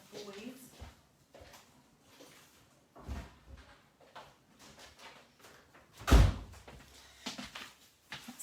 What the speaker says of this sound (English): I'm just going to pull the door to.